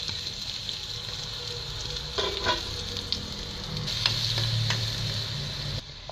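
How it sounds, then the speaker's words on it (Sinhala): Mustard seeds, cinnamon and garlic frying in hot oil give a constant close hiss and crackle, with small popping bursts and faint stirring scrapes throughout. "තෙල් ටික රත් වෙගෙන යනකොට මම ඒකට අපේ අබෑට ටික, කුරුඳු, සුදු වෙන එකතු කර ගන්නවා"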